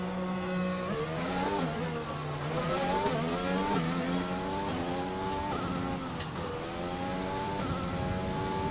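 Race car engines from the F1 2020 game whine and rev through rising and falling gear pitches, a loud, continuous high-revving drone with shifts and a brief tire squeal, no talking.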